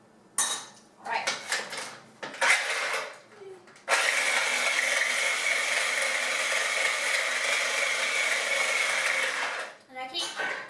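A few clattering knocks and rattles give way to a food processor whirring loudly and roughly for several seconds, grinding and straining on a chopped sunflower seed mix before it stops.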